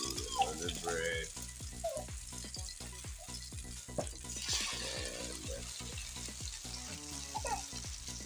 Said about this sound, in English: we dip it into it, and we put that into the pan